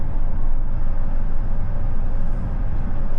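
Steady low road and tire howl heard from inside a 2025 Chevy Silverado ZR2 AEV Edition pickup cruising at 65 mph, a constant broadband rumble with no talk over it.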